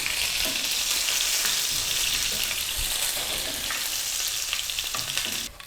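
Garlic and dried red chillies fry in hot oil for a tempering over spinach and fenugreek saag, a loud continuous sizzle with occasional stirring, close up, which cuts off abruptly at the end.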